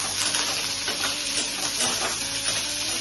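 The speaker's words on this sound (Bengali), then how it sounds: "মিষ্টি কুমড়োগুলোকে ফ্রাই করছি।" Pumpkin pieces fry in a pan with a steady close sizzle and soft repeated stirring scrapes, brief and without talk.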